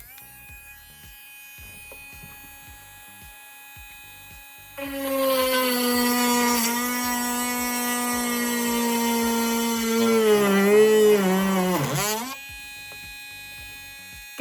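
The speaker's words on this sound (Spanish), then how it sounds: "Y ahora voy a taladrar." A power drill whirs loudly for several seconds, its pitch dipping as it bites, then cuts off, leaving quiet room tone.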